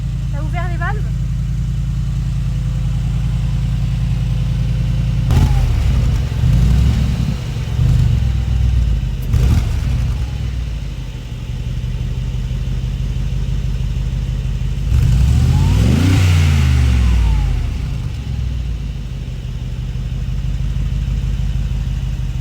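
Loud, deep exhaust of a Mercedes G63 AMG with its valves open, idling steadily and rising in a few strong throttle revs, with people talking over it now and then.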